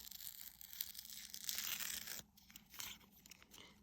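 Paper backing is torn and peeled away from machine-cut dog print shapes, close, crinkly ripping sounds in bursts with a short pause midway.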